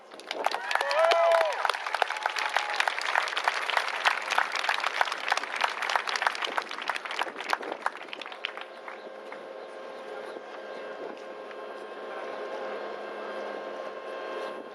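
Loud applause from an audience at a Black Lives Matter educational rally in Menomonee Falls, Wisconsin, with dense clapping for about eight seconds, then easing into softer crowd noise and murmuring.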